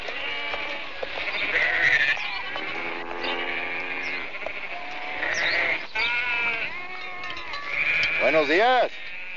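Goats bleat repeatedly at close range, several wavering calls overlapping one another with a loud quavering cry near the end, with no talk over them.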